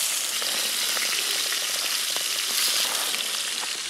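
Fresh pike, cooked with wild onion, frying in a pan, giving a steady, close crackling sizzle with small pops throughout and no talk.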